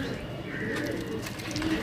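Domestic pigeons at a loft in Sarai Alamgir, Gujarat, coo in a low, steady murmur that runs the whole time, with faint chirps and background noise mixed in.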